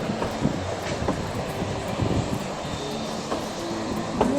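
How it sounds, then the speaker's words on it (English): Steady rumble and faint rail clatter from a train locomotive running through the Animas River gorge, heard from a distance aboard the train, continuous and moderately quiet. "There's your locomotive up ahead."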